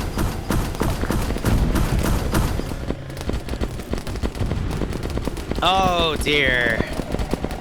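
Rapid gunfire crackles through a Starship Troopers video game battle, dense bursts layered with thuds and clatter, while voices speak over the fighting.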